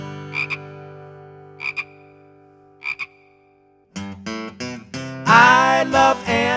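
A frog croaks in short double bursts three times during a children's animal song, then a voice sings a croaking imitation of the frog, loud and close.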